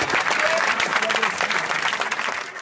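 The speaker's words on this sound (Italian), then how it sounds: "vi chiedo un applauso a mani basse per una persona che purtroppo non può essere più con noi ciao Crescenzo" A crowd at a beach club memorial gives a dense, sustained round of applause, many hands clapping steadily and close for the whole stretch, with a few faint voices mixed in.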